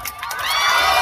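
An outdoor evening concert crowd at a temple gala in Taiwan screams and cheers. A dense, bright roar of shrieks and whoops swells and grows louder across the short burst.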